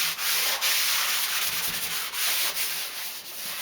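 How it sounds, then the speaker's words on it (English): A rat rod car door panel is wiped down with body degreaser and panel prep, giving a continuous close rubbing and scrubbing hiss with small rhythmic surges as the cloth moves back and forth. "Just using a normal body degreaser and panel prep to remove any excess dirt."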